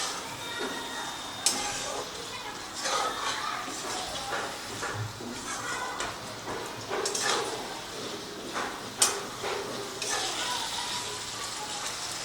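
Fried okra is stirred into spice masala in a pan, with a steady sizzle and repeated scraping and clinking of a spoon against the pan, alongside intermittent speech.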